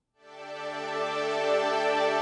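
A retro synthesizer sample run through Kontakt filters and modulation fades in from silence, then swells into a bright, sustained tone full of harmonics that keeps building in level.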